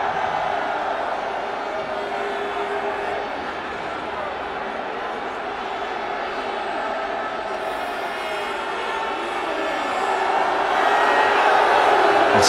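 Crowd at a Pakistan versus Australia Twenty20 cricket match in 2010, a continuous broad murmur of many distant voices with a slight swell toward the end, under a commentator's talk.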